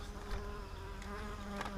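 Honeybees buzz at the entrance of a swarm trap, a soft continuous hum with overlapping wingbeat tones as individual bees drift close and away.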